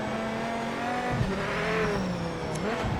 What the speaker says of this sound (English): I guarantee this VIPER sounds absolutely awesome.